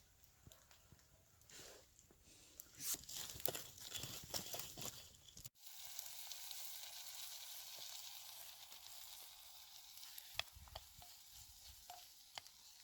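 Onion frying in oil in a cooking pot, with a broadband sizzle that rises after a sharp clunk and holds steady, dotted with faint pops and stirring clatter; no talking.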